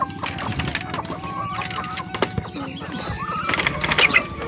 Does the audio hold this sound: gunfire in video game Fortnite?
no